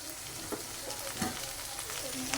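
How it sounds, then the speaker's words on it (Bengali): Dried fish and onion fry in hot oil, a continuous soft sizzle with occasional scrapes and stirring taps, fairly quiet and close. "আর এখানে এখন আমি শুটকিটা ভালো করে ভাজে নিই"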